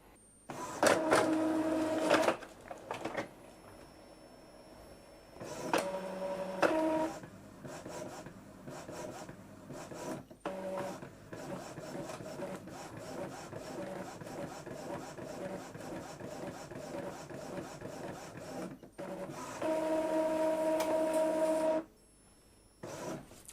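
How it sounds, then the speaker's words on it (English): An Epson EcoTank inkjet printer whirs and rasps through a long print head test page run, its head shuttling back and forth in bursts with mechanical clunks between passes. "it should print out a print head test."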